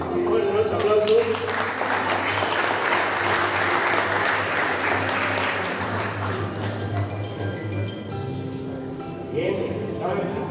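Sustained, loud crowd applause at a 2023 graduation for motorcycle and vehicle mechanics students, thick clapping that carries for about ten seconds, easing slightly near the end with a voice faintly beneath it.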